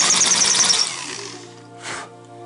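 A power drill whines in a short high-pitched burst, grinding through a glass wine bottle, then winds down into a lower hum with a brief second rev.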